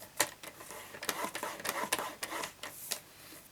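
Paper trimmer blade scoring card stock, with a rapid series of scratchy, rhythmic strokes and clicks close up, no voices.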